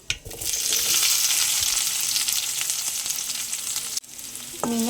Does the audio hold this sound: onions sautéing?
yes